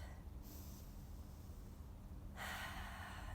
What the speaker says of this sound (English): Take nice, deep, big breaths.